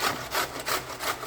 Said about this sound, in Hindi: अब इसको कद्दूकश करते हैं।